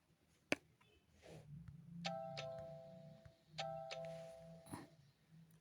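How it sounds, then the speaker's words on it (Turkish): A two-tone ding-dong doorbell rings twice in a home, clear chimes with soft background movement and no talk. "Kapı çalıyor sanırım anne babaları geldi"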